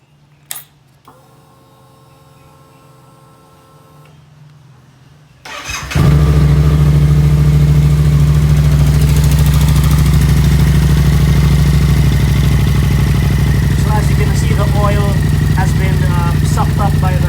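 A 2016 Yamaha MT-07 motorcycle comes to life after an oil change, with quiet handling noises first, then a loud engine start that settles into a steady, rumbling idle close by.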